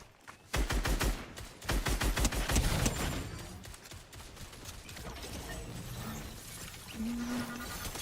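Rapid automatic gunfire in a video game, a dense burst of sharp repeated shots for a couple of seconds, loud and close, then fading into softer scattered clatter and background game noise with no speech.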